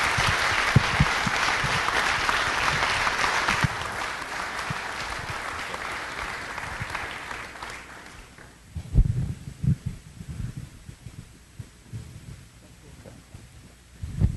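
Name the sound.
audience applause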